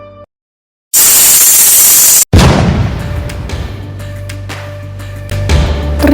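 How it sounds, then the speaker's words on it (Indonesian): A big-bang explosion sound effect: a burst of loud hissing static cuts off sharply, then a deep boom hits and rolls into a long, fading low rumble with crackling debris-like noise. "terjadi ledakan besar."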